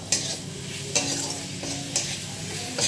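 Broken cashew nuts frying in a pan with a steady sizzle, broken by regular scraping strokes of a spoon stirring them about every second, close and alone.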